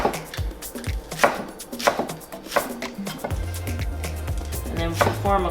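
A knife chops food on a cutting board in quick, uneven bursts of sharp close taps, with someone talking over the chopping throughout.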